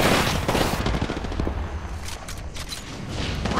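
Gunfire in Apex Legends: loud, close bursts of rapid shots with booming impacts at the start, easing into a steady rattle of more distant shooting and scattered cracks.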